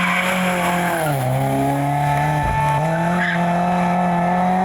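A Group 5 rally car such as the Audi S1 passes at a rally in San Marino, its loud engine dropping in pitch as the tires squeal briefly mid-pass, then the engine note climbing again, close and without speech.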